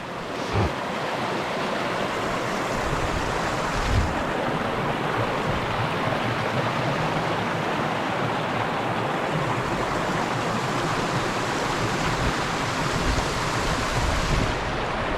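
A cascade in the Italian Alps gives a continuous, loud, broadband rush of falling water that holds steady throughout, with faint wind buffeting the microphone.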